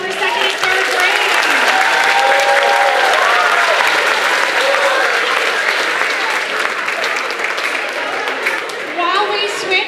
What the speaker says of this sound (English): Another round of applause for second and third grade.